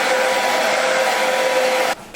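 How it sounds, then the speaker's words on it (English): A hair dryer blows steadily and loudly on a wig's lace frontal to set lace tint, a constant whooshing roar with a faint whine that cuts off abruptly near the end. "And now I'm going to blow dry this lace tint on here."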